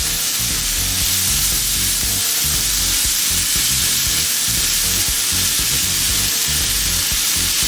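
Herbs frying down in a hot pan for a loaded omelette pizza, giving a loud, dense, continuous sizzle and crackle up close with a busy low rumble underneath and no talking.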